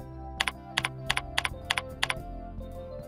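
Keys on a computer keyboard are tapped while a password is entered, about a dozen crisp, close clicks in short uneven bursts with brief pauses over a low steady background hum.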